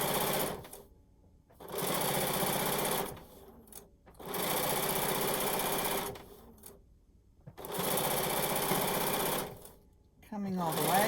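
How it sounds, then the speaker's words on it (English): A sewing machine stitches binding onto a quilt in three long loud runs of steady whirring, each separated by a short pause, close and clear, with a brief scrape at the end. "I always kind of sew in short little bursts because it gives me control over what goes on."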